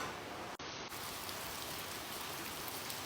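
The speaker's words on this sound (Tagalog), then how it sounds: "Rain, go away. Come again on Monday." Steady rain falling outdoors: a continuous, soft broadband patter and hiss, briefly interrupted by a momentary dropout, otherwise even and fairly quiet throughout with no voices.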